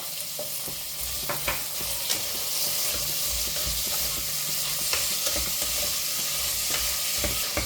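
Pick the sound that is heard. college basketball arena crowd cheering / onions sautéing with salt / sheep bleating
onions sautéing with salt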